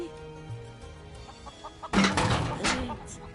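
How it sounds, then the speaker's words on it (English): Chickens clucking in the Final Fantasy 7 Rebirth video game, a short burst of several close, loud clucks and squawks over faint game music. "I can't keep up with a flock of chickens"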